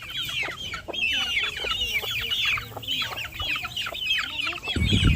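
A flock of red, brown and black farm hens clucks busily in a continuous overlapping chorus nearby, with a low rustle or thump at the very end.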